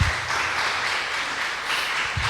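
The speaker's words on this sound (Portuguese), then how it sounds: "Você pode aplaudir ao Senhor?" A church congregation claps together during a celebration service, a dense steady wash of applause with no talking.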